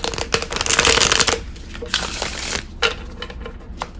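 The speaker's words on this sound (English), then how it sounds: "Let's get some tarot cards." A deck of tarot cards is shuffled up close, a loud riffling burst followed by shorter flicks and snaps of cards, with soft talking in the background.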